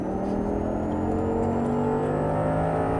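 An Audi R8 engine pulls hard under full throttle on a race track, a loud, steady droning roar with rising harmonic tones held throughout, close and continuous with no talking.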